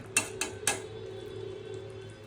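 A metal lid lifted off a pot of boiled rajma and chana dal, three quick close clinks in a row followed by a low steady background hum, no talking.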